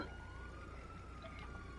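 Ambulance siren from a stolen ambulance in a GTA video game, a faint, steady wailing tone held under low engine rumble for a short stretch, with no voices.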